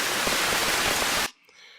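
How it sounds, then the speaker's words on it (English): Heavy rain sound effect layered in as a storm element, a loud dense continuous downpour hiss that fills the clip and cuts off abruptly near the end, leaving near silence. "I am going to add in heavy rain."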